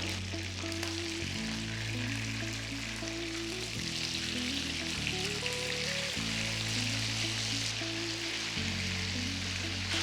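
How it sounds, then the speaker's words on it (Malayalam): Payyoli-style chicken pieces fry in hot oil with a steady, loud sizzle that runs the whole time, with a low background hum beneath it and no voices. "നല്ലൊരു ബ്രൗൺ കളറാകുന്ന വരെ ഒരു സൈഡ് ഫ്രൈ ചെയ്യുക, പിന്നെ ടേൺ ചെയ്ത് മറ്റേ സൈഡ് അതുപോലെ ഫ്രൈ ചെയ്തെടുക്കുക."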